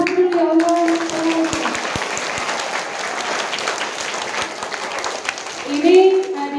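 An audience at a school claps during an Islamic religious outreach event, with loud, dense applause running the whole time and a voice speaking over it at the start and near the end.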